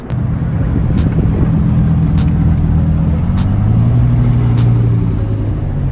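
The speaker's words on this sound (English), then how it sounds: "And a Shelby rolling out." Loud Shelby sports car engine rumbling nearby at a car meet, revving with a deep low note that shifts in pitch as the car pulls away.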